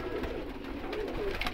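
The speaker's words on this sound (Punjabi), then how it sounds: "ਇਹ ਮਾਸ਼ਾਅੱਲਾ ਕਬੂਤਰ ਜੇ" A pigeon coos softly among other birds, low and faint against background noise in a brief moment with no talk.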